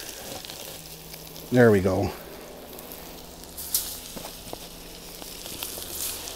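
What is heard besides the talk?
perch fillets frying in butter in a pan over open fire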